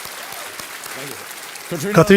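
A studio audience at a quiz show claps, a broadband wash of applause running under a host's speech before his voice rises louder near the end.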